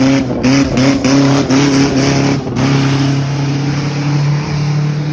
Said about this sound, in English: That was not only the worst sounding car so far